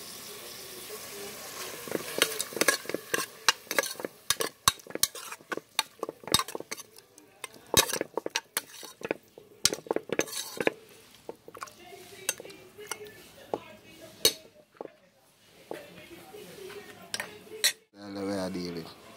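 Brown stew kidney being stirred in a pot for a Jamaican dish, with repeated clinks and scrapes of a spoon against the metal, close and irregular, with a few brief watery sloshes.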